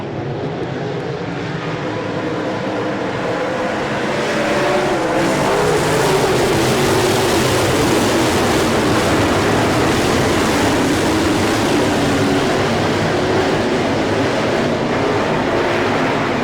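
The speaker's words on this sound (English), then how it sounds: "We're racing off turn number 4." Race cars at the All Star Circuit of Champions Jack Gunn Memorial at Selinsgrove, Pennsylvania, roar off turn four, a loud continuous engine blare that swells and stays dense with many cars together.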